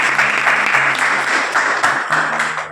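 Applause breaks out after the decisive final vote in a school management committee election, a dense and fairly loud crowd clapping that surges and dips a little throughout.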